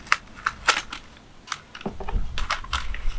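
Tape is peeled and crinkled off a bonsai air-layer pot in close, sharp bursts of crackling and tearing, a few quick rips followed by softer rustling handling.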